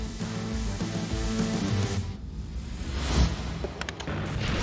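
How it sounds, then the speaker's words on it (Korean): A transparent box filled with oil vapour around a gas station model bursts into flame from a spark, a sustained roaring, rumbling whoosh with a low boom, followed by crackling noise. "스파크 발생기를 연결시키자 순식간에 폭발하는 투명 상자"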